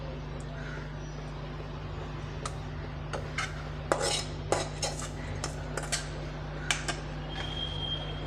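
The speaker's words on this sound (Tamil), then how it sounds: "சேர்த்து நல்லா கலந்து விட்டுறலாம்" A spoon stirs carrot and drumstick leaves into wheat dosa batter in a bowl, giving scattered clinks and scrapes of metal against the vessel over a steady low hum, close and fairly quiet.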